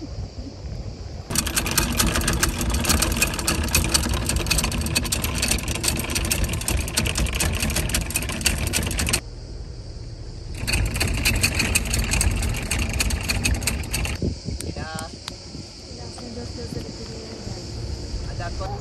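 A steady engine drone runs throughout, with dense broadband noise that drops out briefly and returns, like a tour boat underway at sea off Datça.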